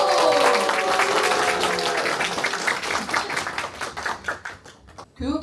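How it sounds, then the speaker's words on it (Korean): An audience at a book talk bursts into applause, dense clapping that gradually thins into scattered claps, with a voice speaking near the end. "박수!"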